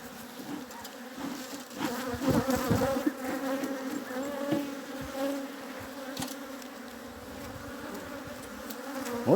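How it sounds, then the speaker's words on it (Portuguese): A defensive honeybee colony buzzes loudly and continuously close by as the hive is worked, a dense swarm hum that swells and eases with single bees flying past. "Bastante defensiva, porque essas abelhas, elas são mesmo."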